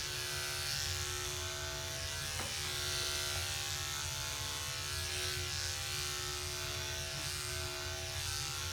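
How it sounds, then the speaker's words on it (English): Electric clippers groom a dog with a continuous close buzzing drone that holds steady throughout, with no voices. "that's kind of the idea around using comb and using a clipper."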